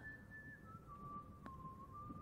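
Someone whistles a soft, sustained tune in the Game of Thrones video game, a thin clear pitch that steps down gently and holds, faint over a low rumbling background.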